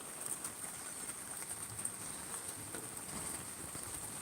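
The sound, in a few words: rain falling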